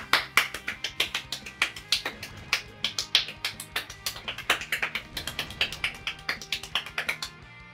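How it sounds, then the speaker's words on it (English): Fast, rapid hand clapping in quick regular bursts, dozens of sharp crisp claps, close and fairly loud, with faint game sounds from BroForce underneath. "I clap so fast. I'm the world's fastest clapper."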